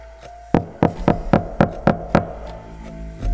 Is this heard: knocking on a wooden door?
yes